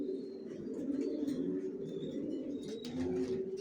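Racing pigeons coo steadily inside a loft, a continuous low murmur of overlapping calls with faint higher chirps, moderately quiet and close.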